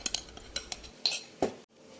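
Pandan layer cake batter being stirred and strained in a bowl, with light clinks and scrapes of a utensil against the container, close and fairly quiet, a few scattered taps before a short silence.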